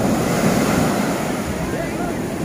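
Sea waves at Calangute beach in Goa make a steady, loud roar of surf mixed with wind buffeting the microphone, continuous and unbroken throughout.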